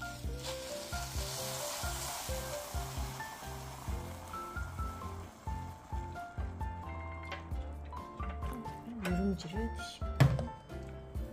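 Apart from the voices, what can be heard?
water boiling in a natural stone rice pot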